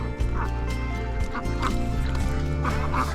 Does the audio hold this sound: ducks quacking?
yes